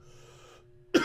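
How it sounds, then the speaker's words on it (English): A single short, sharp cough close to the microphone, following a faint steady hum. "cut out my coughing and wheezing"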